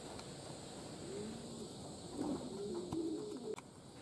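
Racing pigeons cooing in soft repeated low calls near a loft under a hot summer sky, faint at first and then louder and closer, with light wind in the background.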